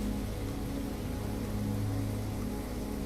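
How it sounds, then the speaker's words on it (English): Rain sound effect from the video game Star Shift Rebellion, a steady, dense, low-heavy hiss of rainfall with a chunky, bulky texture, continuous and even throughout with no voices. "Like chunky rain."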